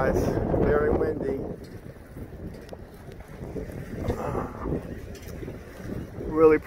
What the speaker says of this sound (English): It's very, very windy out here